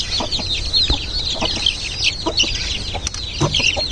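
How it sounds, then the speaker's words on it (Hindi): A flock of fancy chickens clucks close by in a busy, overlapping chorus of short chirpy calls and clucks, steady and fairly loud, with no talking. "सारे फैंसी चिक्स है"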